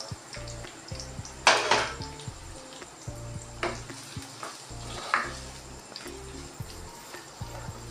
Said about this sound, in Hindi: ये हमने प्याज को बस थोड़ा सा ट्रांसपेरेंट करना है, हमने फ्राई नहीं करना।